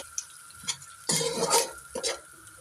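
Vegetables with carrot being stir-fried in a pan for chicken Manchurian and egg fried rice: a few scraping stirs with a burst of sizzling in the middle, close and clear, with no talk.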